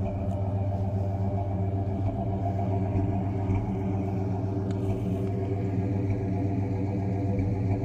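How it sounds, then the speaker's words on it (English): A 1968 Pontiac GTO with its 400 engine idling through Flowmaster mufflers and dual exhaust, a steady deep rumble heard up close and alone, with no voices. "The car is running right now, in case you can't tell."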